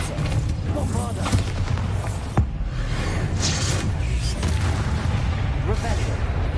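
Spell blasts from Confringo, Depulsor and Bombarda in the Hogwarts Legacy video game boom and crackle one after another in dense combat noise, with a sharp thump midway, while a voice calls out throughout.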